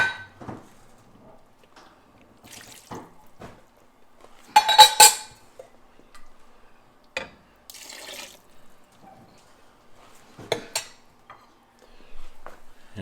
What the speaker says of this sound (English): Dump the sugar in the pot.